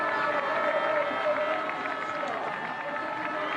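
A canoe slalom race crowd cheers and applauds steadily from a distance, a dense wash of clapping and shouts holding throughout the short stretch, with a commentator talking over it.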